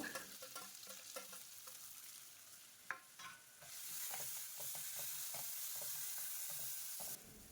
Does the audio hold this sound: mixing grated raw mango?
yes